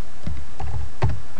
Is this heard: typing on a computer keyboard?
yes